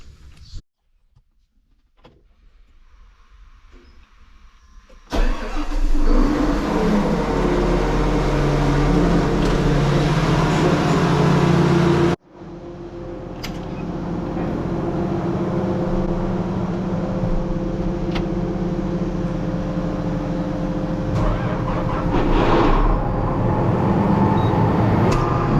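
Farm tractor engine inside a shop, first a faint low rumble, then a loud steady drone that starts suddenly, cuts off briefly and resumes, running on without voices.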